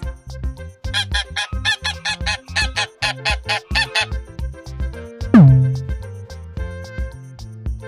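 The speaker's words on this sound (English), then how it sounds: "Goose." A goose honks in a rapid series of loud, nasal calls, followed by a single longer descending honk, all close and clear over a faint steady backdrop.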